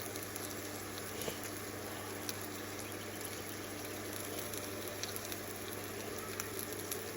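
A steak sizzles and spatters steadily in a pan on an induction cooker run from an inverter, a constant close frying hiss with faint crackles and no talk.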